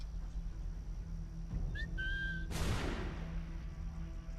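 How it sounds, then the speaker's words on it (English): A short rising whistle and a sustained whistled tone from a character in Assassin's Creed 3 Remastered, sounding once over a steady low game ambience before a burst of rushing noise follows. "the fact that you can whistle now is amazing"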